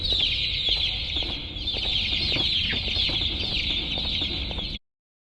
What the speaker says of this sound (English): Look, baby chicks.